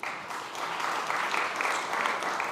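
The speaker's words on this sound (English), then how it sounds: "Please give her a round of applause." An audience at a SXSW 2025 panel on soil gives a brief round of applause, a soft, even patter of clapping heard from a distance.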